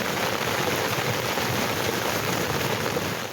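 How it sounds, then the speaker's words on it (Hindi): Heavy rain with hail pours down in Murree, a loud dense roar of drops hammering surfaces. The sound stays steady and close without pause, with no voices. "मरी में बारिश के साथ साथ ओले भी पड़े।"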